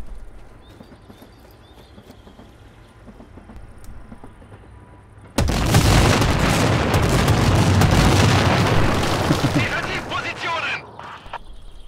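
A bomb blast in the video game Sniper: Ghost Warrior 3, set off near a train, bursts in suddenly as a loud, sustained roar with rumbling debris lasting several seconds before cutting off.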